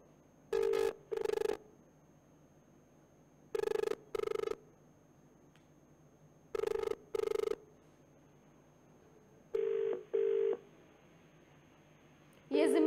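Outgoing-call ringback tone on a telephone: four evenly spaced double rings, each pair of short buzzes followed by a long pause, clear and steady over a faint background hum, with no voices heard.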